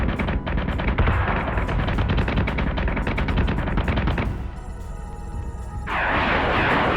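Sustained rapid gunfire from Battlestar Galactica Deadlock, loud and dense for about four seconds, then a quieter gap with mechanical hum before a burst of broad noise returns.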